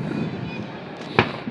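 A firework bursts with one sharp crack amid a steady rumble of crowd noise and background booms at a 4th of July finale in San Francisco, with people talking throughout.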